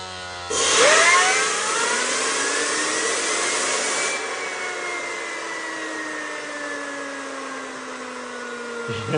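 A two-stage bladeless disc-stack turbo spins up from rest, a loud whine that sweeps sharply upward in pitch within seconds, then settles into a steady high whir with layered tones that slowly drift downward.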